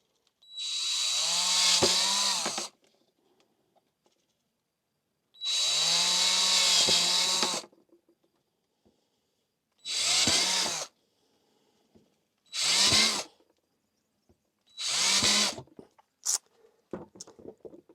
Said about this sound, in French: je fais une succession de trous